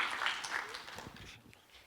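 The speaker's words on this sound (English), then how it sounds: "big round of applause for Adam" An audience at a startup pitch event applauds, a brief burst of clapping that swells quickly and then fades within about two seconds.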